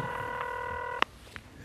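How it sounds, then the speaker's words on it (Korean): A telephone call being connected on a KBS comedy show gives a steady multi-tone ringback hum, then a sharp click as the line picks up and a faint quieter blip follows. "저희 제작진이 지금 신민아 씨와 전화통화 연결을 해놨습니다"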